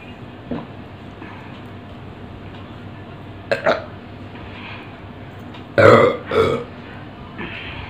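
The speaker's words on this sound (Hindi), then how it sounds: "इस बार तीन डकार आ चुकी हैं" Burps after drinking during a burp-counting challenge, a couple of short bursts followed by a louder, deeper burp near the end, over a quiet background.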